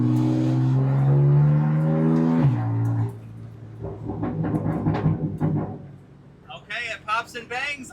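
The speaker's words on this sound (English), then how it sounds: "Okay, it pops and bangs like a BMW." A BMW M4 GT4 race car engine drones loudly and then drops off, followed by a series of sharp exhaust pops and crackles on the overrun, with someone talking over part of it.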